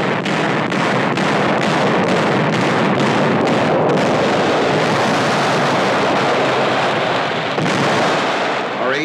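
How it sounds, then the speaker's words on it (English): Naval shelling of Peleliu island in 1945, old newsreel sound with loud, dense rumbling blasts and booming fire from ships and landing craft, continuous and heavy throughout. "The shelling of the island continues, supplemented by fire from landing craft."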